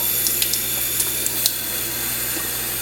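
Water running steadily from a bathroom tap while being adjusted to lukewarm for bathing a cockatiel, a constant close hiss with a few small clicks and splashes.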